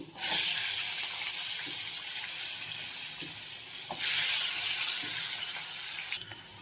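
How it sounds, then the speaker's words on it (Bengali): Carrots frying in a pan for vegetable khichuri, a steady bright sizzle that flares louder as pieces go in and again midway, with occasional stirring clicks, close and continuous. "গাজরটাও সেম প্রসেসে ভেজে নেবো"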